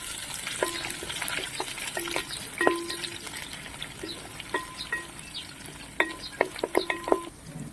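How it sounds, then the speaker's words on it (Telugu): Sliced green chillies and mint stirred into fried onions in a pan for mutton curry: a constant close sizzle broken by repeated sharp metallic spoon scrapes and clanks against the pan, no talking. "ఆనియన్స్ మంచిగా ఫ్రై అయిపోయినాయి ఇప్పుడు ఇందులో నాలుగు సన్నగా కట్ చేసిన పచ్చిమిర్చి వేసుకుందాం అలాగే ఇప్పుడు పుదీనా ఒకసారి కలుపుకుందాం"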